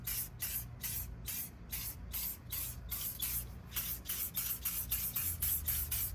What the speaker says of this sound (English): We're gonna spray one more light coat